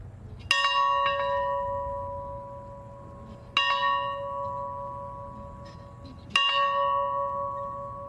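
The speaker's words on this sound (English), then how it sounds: "And then the ringing of a historic bell." A historic bell tolled at a memorial honouring the 39th president, with National Park Service workers present: three loud, evenly spaced strikes, each ringing out and slowly fading before the next.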